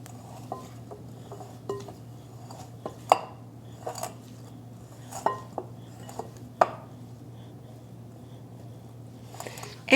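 Utensils clink and scrape against a bowl while a caprese chicken salad is tossed, with irregular sharp taps and rattles over a low steady hum, close and alone without talk.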